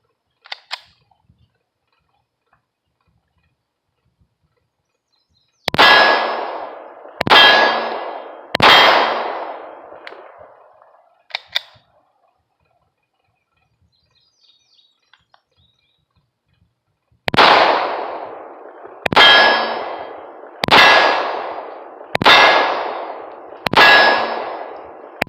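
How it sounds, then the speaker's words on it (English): Cheap 9mm reloads fired from a Canik TP9SF pistol strike steel targets, giving loud metallic clangs that ring out and decay. Three hits come, then a pause, then five more in steady succession, with no talk. "listen for the hits"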